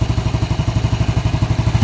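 A Yamaha Vega Force 115 motorcycle idles after a top overhaul of its 11-year-old engine, a close, steady, rapid putter of evenly spaced firing pulses with a light mechanical clatter.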